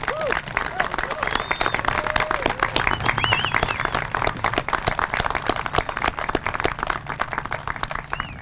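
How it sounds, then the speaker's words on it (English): A crowd at a Veterans Day ceremony in Quincy applauds veterans, with dense, sustained clapping that fills the whole stretch, and scattered voices and cheers rising through it. "I would like to take this opportunity for a heartfelt round of applause for all veterans in the"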